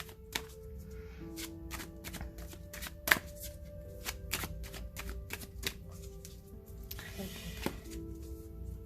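Oracle cards being shuffled and drawn for a reading, a quiet run of crisp card riffles and sharp taps and slaps, close up with a few louder snaps.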